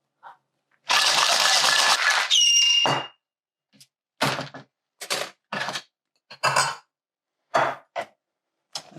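A cocktail shaker filled with ice rattles hard as a chocolate strawberry mocktini is shaken, first in a long loud burst and then in several short separate bursts.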